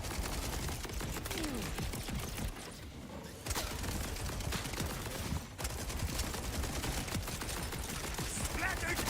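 Rapid gunfire in the video game Borderlands 4, a dense, nearly continuous barrage of loud shots with a brief lull in the middle, over faint background talk.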